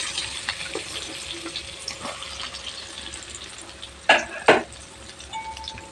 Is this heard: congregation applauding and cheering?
no